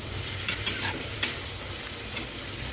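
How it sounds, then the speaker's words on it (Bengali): A spoon scrapes and clinks through beans and vegetables with spices in a frying pan, a few sharp taps over a faint, steady sizzle, close and quiet. "এখন আমি ভালো করে এটাকে মিক্স করে নিব"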